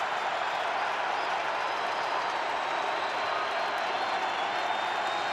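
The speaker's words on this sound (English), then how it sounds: "Crowd making noise inside American Family Field." Steady, dense roar of a baseball crowd inside American Family Field with the roof closed during a Mets vs Brewers Wild Card playoff game, rally towels out; a continuous broad wash of massed voices with no distinct claps.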